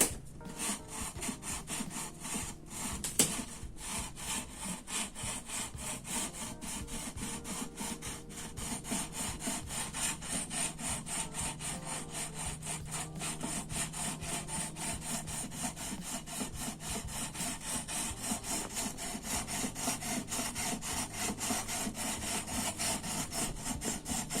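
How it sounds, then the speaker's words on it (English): Steady back-and-forth rasping of 400 grit sandpaper over the frets of a 1972 Gibson SG Deluxe guitar, a continuous close-up rubbing rhythm running unbroken with no talk. "This is our 400 grit sandpaper."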